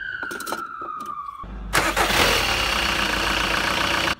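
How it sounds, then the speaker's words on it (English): A Volkswagen Golf Mk4 1.9 SDI diesel engine cranks with a whirring starter, then catches and settles into a steady, loud idle close by before cutting off abruptly. "Let's run the engine and see if it comes"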